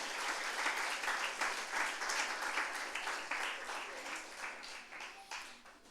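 A large church congregation claps steadily and energetically, sustained applause filling the room without pause.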